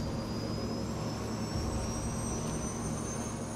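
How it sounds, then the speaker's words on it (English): A jet airliner lifts off the runway on takeoff, a steady broad engine roar with a rising high whine, continuous and fairly distant with no voices. "The plane lifts off, less than 3 minutes after it started to taxi."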